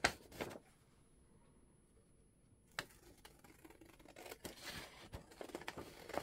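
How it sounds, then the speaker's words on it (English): Small scissors snipping through paper while making a no-sew journal, a few quiet close cuts spaced apart, with faint handling noise between them. "So we're going to cut this out"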